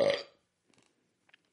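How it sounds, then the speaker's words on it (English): A single short, loud belch after a meal of barbecued meat and wine, close to the microphone, followed by faint clicks and quiet. "in the meat and the wine apparently makes me belch"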